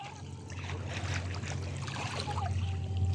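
Cold water trickling in a countryside stream in Hong Kong, a soft continuous babble heard faintly over a low steady hum, with no talk.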